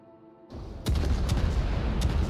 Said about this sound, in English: Shots from the Cleveland coming out.